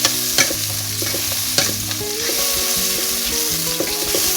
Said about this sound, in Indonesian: Kita tumis bawang merah bawang putihnya sampai harum ya